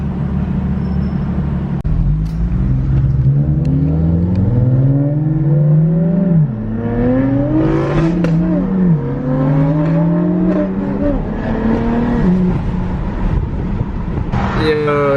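A car fitted with an Active Autowerke equal length mid pipe revs hard several times, the exhaust note climbing and falling in repeated pulls, loud and close, with people talking over it.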